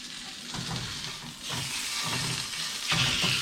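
Venison sausage sizzles steadily in Kerrygold butter in a skillet, a loud, continuous frying hiss with brief bursts of spatter and stirring, and no voices.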